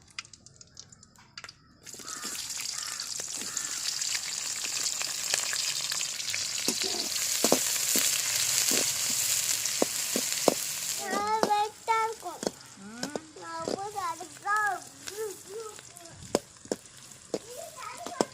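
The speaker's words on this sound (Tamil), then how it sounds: "வெங்காயம் நல்லா வதங்கட்டும்பா" Onions sizzle and fry in oil with cinnamon and cloves in a kadai, stirred now and then, a steady close sizzle with scraping stirs, village-style duck gravy cooking outdoors; a voice and chatter join in the latter half.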